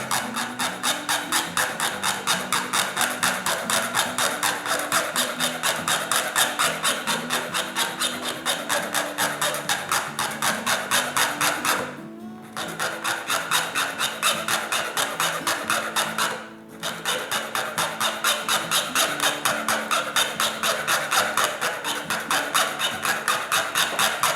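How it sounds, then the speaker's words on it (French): A small flat file rasps across the top of a small wooden log for an HO-scale trestle bridge in fast, even back-and-forth strokes. The sound is loud and close and keeps going steadily, with two short pauses. "à l'aide de votre petite lime plate, vous allez limer le dessus afin de rattraper l'angle voulu"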